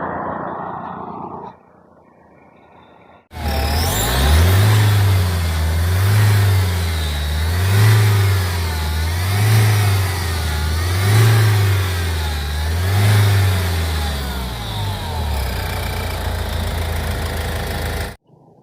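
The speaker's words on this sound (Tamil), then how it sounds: "வண்டியை ஸ்டார்ட் பண்ணி காமிக்கிறேன்" A Mahindra Xylo 8-seater with 159,000 km is started after a quiet pause, then revved in about six even surges and allowed to fall back to idle each time. The engine is loud and close before it cuts off abruptly.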